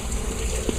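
Water gushes steadily into a Kenmore 80 Series washing machine tub, a brief, close, continuous rushing fill with no pauses.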